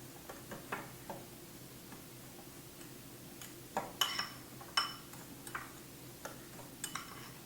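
Apple pieces stirred with a teaspoon of cinnamon in a bowl for apple crisp, a soft run of utensil clicks and taps against the dish, irregular and fairly quiet with a few sharper knocks.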